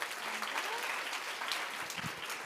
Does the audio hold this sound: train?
no